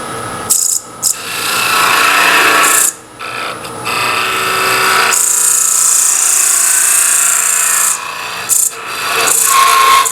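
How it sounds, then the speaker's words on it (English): A small hollowing tool cuts into a spinning redwood Christmas ornament on a lathe, giving loud, sustained scraping and rasping bursts that stop and restart in several passes, alone with no talk. "Working at creating more room to get this tool in."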